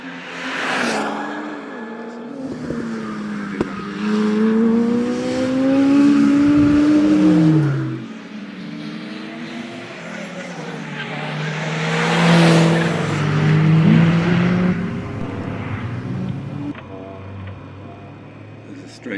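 An Opel Speedster races around the Ecuyers circuit, its engine note rising and falling through gear changes and sliding corners, loud and close throughout, with someone talking over it.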